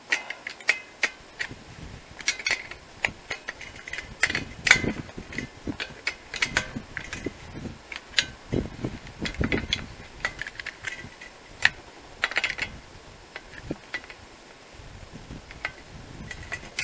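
Screws are tightened by hand while fire extinguishers are checked, giving a steady run of small clicking, ratcheting mechanical ticks, close and irregular, with no talking.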